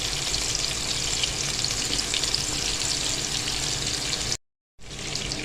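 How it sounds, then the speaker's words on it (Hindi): Raw minced-meat chapli-style kebabs sizzle and fry steadily in a pan of hot oil, a dense continuous crackle close up, cut by a brief silent gap near the end before resuming. "कबाब हमारे जो है वो ज़बरदस्त किस्म के फ्राई होते जा रहे हैं"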